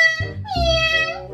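A voice imitates a cat's meow up close, giving two drawn-out, whiny meow calls with a short break between them.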